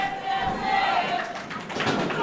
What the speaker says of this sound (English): This crowd getting behind Seth Stevens here.